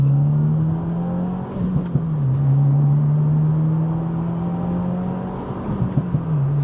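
A 2024 Subaru WRX TR pulling hard from inside the cabin, its engine droning loud and steady with a rising, falling tone as it accelerates, punctuated by brief gear-change dips and faint clicks.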